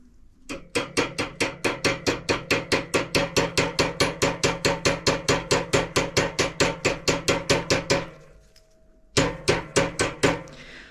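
A hammer strikes a tool for flaring a metal brake line, around forty sharp, evenly spaced blows in a fast, steady rhythm. After a short pause, a few more strikes follow.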